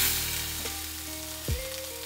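Peas and spices sauté in a pan over a medium flame for matar ka nimona, giving a steady soft sizzle with a faint clink of stirring, close and alone with no talk.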